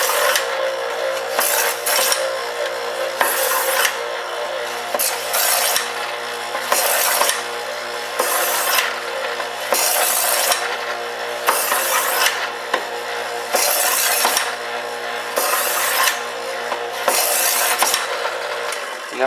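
A knife blade is honed on a rough sharpening surface with steady, repeated rasping strokes, about one every second, loud and close, with no talking.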